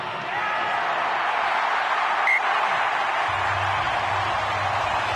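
A rugby stadium crowd roars during an Australia vs France match in 2021, a loud, continuous wash of cheering that holds steady throughout, with a low hum entering partway through.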